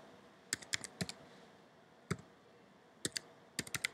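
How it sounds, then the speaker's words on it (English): Keys on a computer keyboard tapped in short, quiet bursts of two to four clicks separated by brief pauses, close up in a hushed room. "So click on Edit, and we will just type in"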